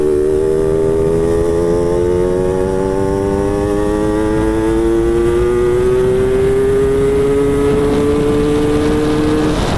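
A Yamaha Alfa motorcycle engine revving up loud and close, its buzzing pitch climbing steadily and continuously over nearly ten seconds with no talk.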